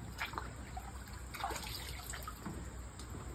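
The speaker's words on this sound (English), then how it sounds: "let's stir this thing up." Cold water being stirred in an ice plunge made from a chest freezer, a continuous sloshing and trickling that swells in places, with no talking.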